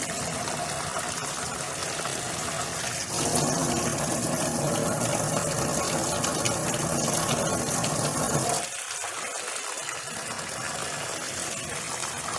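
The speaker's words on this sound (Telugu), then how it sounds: "చల్లని వాటర్తో ఒక్కసారి we will rinse" Cold tap water runs steadily over cooked rice for a tomato and soya pulao, a continuous rushing gush that shifts tone partway through as the flow changes, close and fairly loud with no talking.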